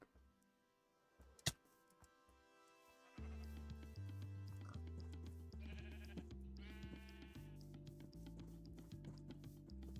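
Sheep bleat in a block-building video game, short animal calls set against steady background game music with a sharp click early on.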